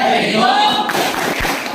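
A school class claps out the tepuk matematika rhythm together, a short run of claps rising out of a noisy room.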